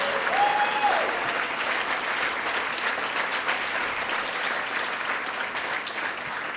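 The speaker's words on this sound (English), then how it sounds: "Let's give them a round of applause and thank them for being here" An audience at the 2013 Adirondack Challenge awards ceremony applauds its guests with sustained, moderately distant clapping that holds at an even level throughout, with a faint tone briefly near the start.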